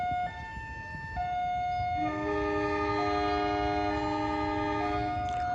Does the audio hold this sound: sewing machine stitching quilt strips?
no